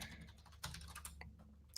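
A short burst of typing on a computer keyboard during a video call: quiet, close keystrokes tapping irregularly over low background hum, with no speech.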